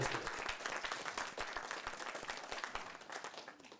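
A hall audience at a Tamil drama prize-giving applauds in a steady, dense burst of clapping, fairly quiet and distant, fading slightly at the end.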